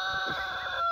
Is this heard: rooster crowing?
yes